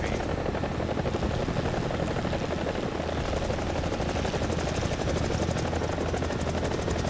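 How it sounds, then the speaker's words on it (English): Helicopter rotors in the War Thunder video game beat steadily and loudly through the whole stretch, a dense continuous thrum with rapid rotor chop, no voices. "I swear I could hear 2 helicopters"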